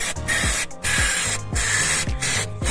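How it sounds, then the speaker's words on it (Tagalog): Cleaner sprayed onto a car's automatic transmission solenoid on the valve body, in several loud, close hissing bursts, each cut off by short pauses, with no talking. "So mag-spray tayo ng kanyang solenoid para malinis."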